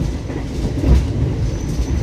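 Argo Bromo Anggrek executive passenger train running on the rails, a steady low rumble with faint clickety-clack of the wheels, heard from inside the carriage with no talking.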